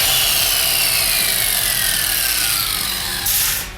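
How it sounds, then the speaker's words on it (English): A small electric quarter-inch angle grinder grinds down the steel frame of a Cummins-powered rat rod, a loud, steady high-pitched whine and hiss running unbroken throughout, close up. "I'm gonna grind this frame down tonight."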